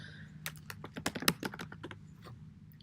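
Keys clatter on a computer keyboard in a quiet room, a dozen or so crisp clicks in an uneven burst, loudest in the middle and tapering off, with no talking.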